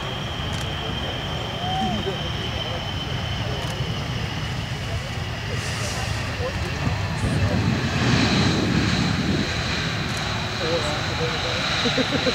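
A B-1B Lancer bomber touches down at an air show, its jet engines giving a loud, sustained roar that swells midway, with a public-address announcer talking over it.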